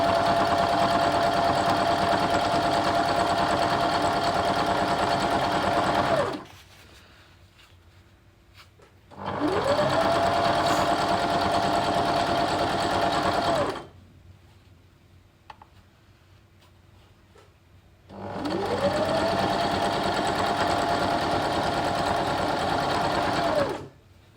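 A sewing machine stitches quilt fabric for borders and sashing in three loud, steady bursts of several seconds each, with a rising whir at the start of each run and quiet pauses between them.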